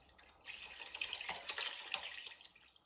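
Curds and whey poured from a pot into a cloth-lined strainer while making cheese at home, a soft, faint splashing and trickling of liquid that swells and then tapers off.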